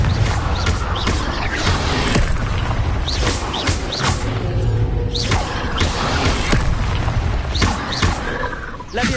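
Confringo blasting spell cast repeatedly in Hogwarts Legacy, a series of sharp booming impacts and whooshing bursts spaced every second or so over busy game ambience and mechanical clatter.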